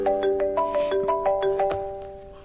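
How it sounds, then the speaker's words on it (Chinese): A mobile phone rings with a bright, melodic ringtone, a repeating pattern of short chiming notes playing steadily and fairly close for a couple of seconds with no one talking. "我先接个电话"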